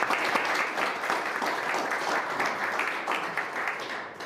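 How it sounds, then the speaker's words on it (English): An audience gives a round of applause for the sponsor Pupkewitz Megabuild, backer of Namibia's biggest multi-stage cycling event; moderate, steady clapping from a modest crowd lasting around four seconds, no speech over it. "I think this deserves a big round of applause as well"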